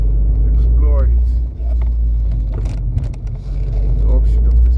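An Abarth 595C Turismo with a Monza exhaust, top open, rumbling at low speed through an urban area: a loud, steady deep drone with a brief dip, and someone talking over it.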